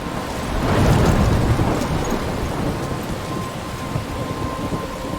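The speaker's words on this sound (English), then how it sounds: "I'm trapped in a storm?" A Life is Strange Remastered thunderstorm, where a deep rumble of thunder swells early and then rolls on beneath a constant hiss of heavy rain, with nobody speaking.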